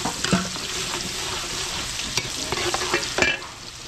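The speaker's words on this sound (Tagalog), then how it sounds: "gigisa na natin yung ating beef caldereta, so bawang sibuyas" Garlic and onion sizzle loudly in hot oil for beef caldereta, a steady close frying hiss broken by scraping stirs of a utensil against the pan.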